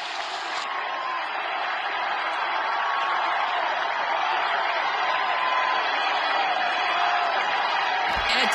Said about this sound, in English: The crowd is getting excited.